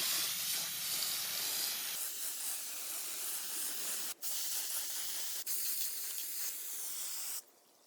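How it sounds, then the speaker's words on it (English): Design Master spray paint hissing from an aerosol can onto a large styrofoam Easter bunny, a steady close spray broken by two brief pauses before it cuts off near the end. "I'm going to use Design Master paint because that does not eat through the styrofoam"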